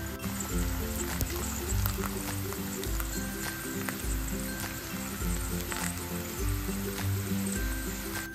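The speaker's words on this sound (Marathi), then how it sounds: "आता हे काप आपण पलटून घेतलेत आणि दुसऱ्या बाजूने सुद्धा अगदी छान असे फ्राय करून घ्यायचे" Pumpkin slices frying in a pan on low gas, a continuous close sizzle and crackle with a steady hiss and low bubbling underneath, fairly loud and unbroken, with no voices.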